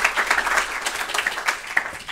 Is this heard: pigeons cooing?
no